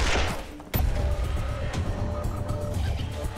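Gunfire aimed at a giant rabbit in the turn-based game Wasteland 2: one sharp shot cracks out, followed by a dense, rumbling clatter of impact and explosion noise that holds steady to the end.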